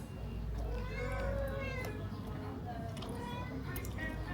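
A cat meows near a table of local food at a market in Djerba, Tunisia, its rising and falling calls repeating over a steady low background hum and nearby voices.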